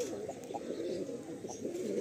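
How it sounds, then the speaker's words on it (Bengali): Malwai pigeons coo softly and continuously at close range, a low steady murmur of overlapping calls with no talking. "পায়রাগুলো খুব সুন্দর লাগছে"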